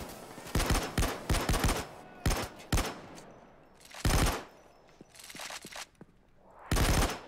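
Automatic gunfire in the video game Payday 2, heard as several loud, close bursts of rapid shots separated by short pauses, with a final burst near the end.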